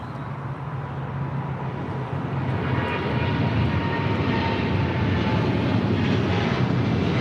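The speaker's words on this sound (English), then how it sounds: "This is China Airlines Cargo" A China Airlines Cargo jet roars steadily at LAX, its broad engine rumble swelling slightly louder partway through and holding strong to the end, with no voices over it.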